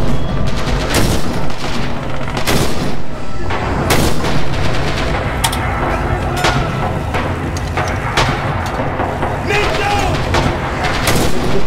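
Rifle fire and the heavy blasts of an anti-tank rifle in the World War II shooter Red Orchestra 2 ring out in repeated loud, sharp bursts and booms, spaced irregularly across the battle.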